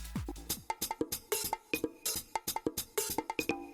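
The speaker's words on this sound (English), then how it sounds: "Then I've also got these little percussion loops that I made, which together sound like this." A tight, rhythmic electronic house-music percussion loop of short clicky hits and tonal blips repeats in a steady groove, crisp, compressed and up front.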